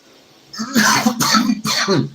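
A person coughs three times in quick succession, harsh and close, with a throaty rasp.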